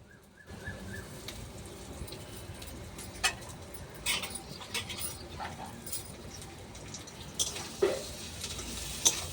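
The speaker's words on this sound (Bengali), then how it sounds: "আলুটা একটু পেঁয়াজের সাথে ভেজে নেব।" Mashed potatoes frying with onions in a hot pan, a soft continuous sizzle under intermittent scraping and stirring taps, with a few sharper knocks toward the end.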